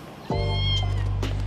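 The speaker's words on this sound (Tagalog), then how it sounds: "Pero ang daming pusa dito." A cat outdoors on a street meows twice, close and loud, the first call drawn out and the second shorter, over steady low background hum.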